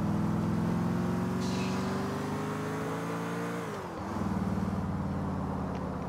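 A car in GTA IV drives and accelerates, its engine drone rising steadily in pitch, then dipping at a gear change before climbing again. It sounds close and continuous, with no voices.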